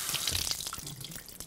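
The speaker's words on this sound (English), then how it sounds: "with warm water, we're going to dampen a dish towel" Warm water runs from a kitchen tap to dampen a dish towel, a short steady splashing stream into the sink with a few brief drips and clatters, close and alone without talk.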